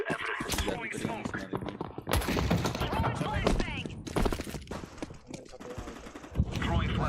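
Rapid automatic gunfire bursts from Counter-Strike 2 gameplay, loud and dense through most of the stretch, mixed with game effects and voices talking over the shooting.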